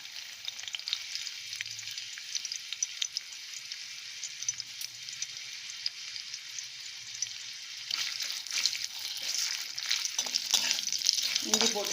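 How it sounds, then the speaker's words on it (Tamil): Ginger pieces frying in a little oil in a kadai give a steady close sizzle that grows busier and louder near the end, with faint stirring clinks and no talking. "அதுக்கு வந்து கொஞ்சமாக எண்ணெய் விட்டுருக்கேன் கடாயில். இதில் நல்ல ஒரு பெரிய பீஸ் இஞ்சி இந்த மாதிரி கட் பண்ணி சேர்த்துக்கிறேன்."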